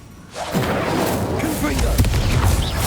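Bombarda blasting spell going off in Hogwarts Legacy: a sudden booming blast with a whooshing edge after a quiet moment, then a steady heavy rumble with thuds that keeps going to the end.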